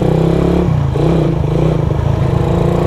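A modified Suzuki Satria FU motorcycle, a Thai-built import, pulls away and accelerates, its engine a loud, steady, close-up drone that shifts slightly as it picks up speed.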